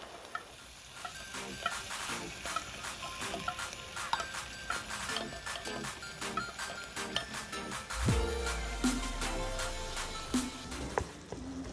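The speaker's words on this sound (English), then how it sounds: "So you cook your tuna for about 2 minutes." Tuna frying beside kimchi in a pan, with steady sizzling and repeated scraping and stirring taps throughout; a louder burst of sizzle swells near the end as the fish hits the hot pan.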